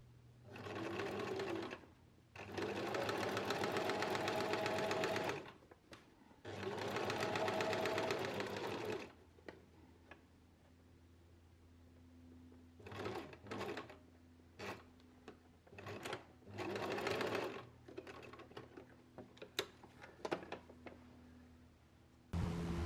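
A domestic sewing machine understitches a pocket seam in three sustained close bursts of rapid mechanical whirring, then shorter start-stop runs with pauses and small clicks between them.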